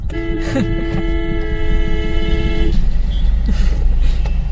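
A car passing close on a road, its engine rumble swelling and fading, with a sustained tonal horn-like note in the first half.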